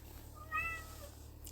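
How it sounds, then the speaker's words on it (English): A domestic cat gives a single faint meow from another room, muffled and distant over a low steady hum. "If you hear my other cats in the background"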